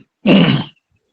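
A single short, loud sneeze, close and dry, lasting about half a second, set against silence during a church sermon.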